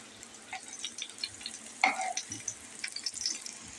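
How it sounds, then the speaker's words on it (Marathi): Stuffed bitter gourd (bharli karli) frying in a pan, with a quiet crackling sizzle broken by a few close clinks and stirring sounds. "हे बघा आता इकडून फ्राय होत आहेत आपली"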